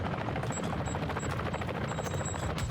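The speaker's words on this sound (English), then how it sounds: "here comes a helicopter" Helicopter in the Call of Duty DMZ video game, a continuous chopping rotor throb at fairly loud level, mixed with rapid gunfire bursts.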